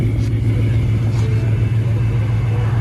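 Procharged Ford Mustang 5.0 with long tube headers and straight pipes, heard from inside as a loud, steady low engine rumble that holds throughout with no distinct rev peaks.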